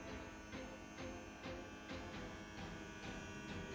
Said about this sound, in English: there you have the so-called bladeless fan working